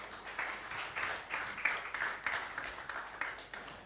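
Audience applause at a Falling Walls Lab science event in Ghana, 2023, welcoming a guest: a faint, steady patter of many hands with small swells, fairly distant in a hall.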